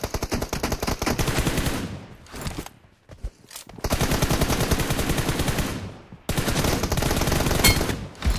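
Rapid automatic gunfire from a shooter video game rattles in long loud bursts, broken by short pauses near the two-, three- and six-second marks.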